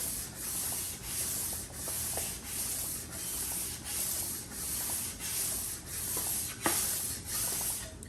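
A cylinder head is hand sanded with 600 grit sandpaper in long, rhythmic rasping strokes, roughly one every half second. The sound is close and steady, with a sharper scrape near the end and no talk.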